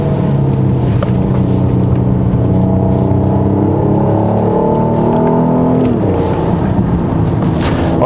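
A 2021 Genesis GV80 3.5T AWD drives a slippery winding road, its engine a loud, steady cabin drone whose pitch rises and shifts as the transmission changes gear.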